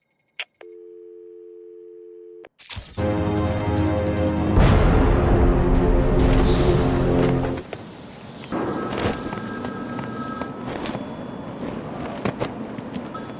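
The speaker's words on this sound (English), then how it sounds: "Answer my phone and answer it quick, Batman." A telephone in the video game Batman: Arkham City gives a brief electronic tone, then breaks into loud, close, sustained ringing that gives way to a buzzier, busy-signal-like drone.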